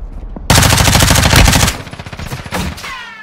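Rapid automatic gunfire in Call of Duty Warzone 2.0, a loud, dense burst of machine-gun shots lasting over a second, then trailing into quieter, scattered shots and echoes.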